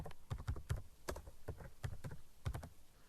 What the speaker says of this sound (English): So if I type in some text